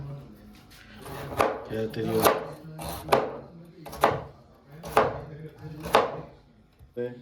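A knife chops carrot on a cutting board in about seven evenly spaced, sharp thuds roughly a second apart, close and distinct, with a low murmur between strokes.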